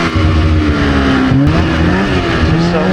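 A snowmobile engine revs hard during a snowstorm ride on Wolf Creek Pass, a loud, close, steady high-rpm drone with shifting pitch as the clutch engages.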